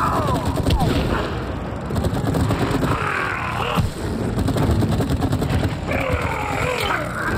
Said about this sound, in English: You gotta shoot from the back, Rob.